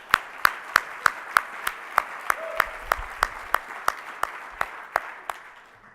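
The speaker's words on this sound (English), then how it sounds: "Let's give a round of applause to John for all his leadership." Slow, evenly spaced claps ring out one after another, about three per second, crisp and moderately loud against a quiet room, tapering slightly toward the end.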